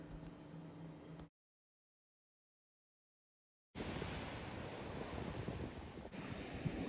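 Sea waves breaking at Blackpool Sands, a UK fishing beach, as a broad, steady wash of surf mixed with wind buffeting the microphone, cut by a few seconds of silence before the roar resumes.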